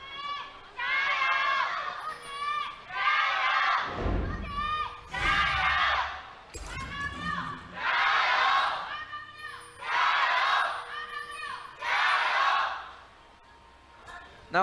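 A crowd at a League of Legends LPL match in an esports arena roars in rhythmic waves, chanting and cheering in repeated loud swells with short pauses and a few sharp thumps between them.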